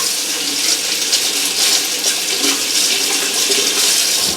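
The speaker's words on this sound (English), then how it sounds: "I'm just going to warm them up under the hot water." Hot water runs steadily from a tap over two loaded safety razors being warmed before a shave, a continuous broadband splashing hiss with no talk.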